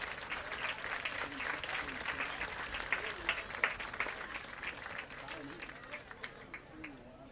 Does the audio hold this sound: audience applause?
yes